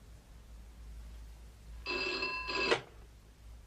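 An old-style telephone bell rings in two short bursts, loud and close against a quiet room, with the second burst cut off as the receiver is picked up.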